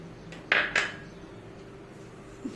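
A spoon stirring roasted peanuts into raw mango rice in a metal pan gives two quick, bright clinks close together, then soft faint scraping in a quiet kitchen.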